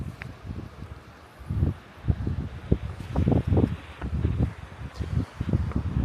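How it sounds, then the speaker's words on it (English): Wind gusts outdoors in a winter state park near a bridge and pavilion, rough low buffeting rising and falling against the microphone. "The wind's blowing now"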